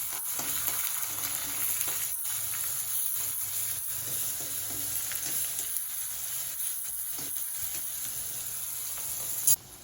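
A potato filling seasoned with salt fries in a pan with a steady, soft sizzle and occasional stirring scrapes, ending in a brief louder knock.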